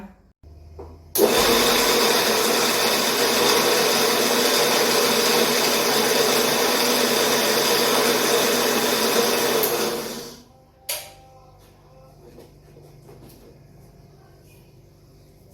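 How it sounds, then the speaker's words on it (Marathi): A mixer grinder whirs loudly and steadily as it blends a spice mixture with chilli and curry leaves, running about nine seconds before winding down, then a brief clunk and quiet room sound follow. "ही अतिशय सुंदर अशी ही मिश्रण पुन्हा एकदा गुर्र करून घेऊया"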